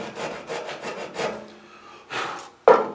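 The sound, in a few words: filing the tin of a biscuit box guitar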